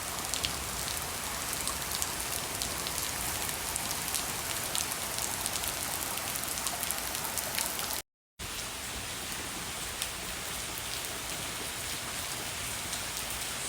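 Steady rain falls during a Florida thunderstorm, a dense, even hiss of drops on surfaces with scattered sharper pattering, continuous apart from a brief cut, no thunder or voices.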